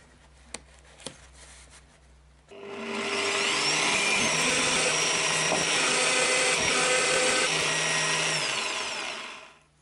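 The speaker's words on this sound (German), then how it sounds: "Die rote Platte muss natürlich an der Stelle auch gebohrt werden." A power drill bores through the red plate of a shop-built router lift for a Festool-style POF 1400 router in a PTS 10 table, starting after two small knocks and running as a loud, steady whine for about seven seconds before winding down.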